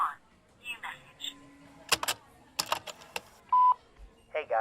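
A telephone keypad gives a handful of short, separate tones while a voicemail is checked, mixed with soft clicks and quiet sounds between them.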